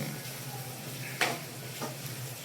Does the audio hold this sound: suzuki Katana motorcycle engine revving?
no